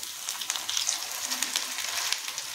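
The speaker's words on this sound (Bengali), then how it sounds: "তো এইভাবে সমস্ত পিঠেগুলোকে এখানে ভাজতে দিয়ে দিয়েছি।" Cauliflower pitha fry in hot oil in a pan, giving a steady bright sizzle with crackling pops and spits scattered throughout, close and moderately loud, with no talking.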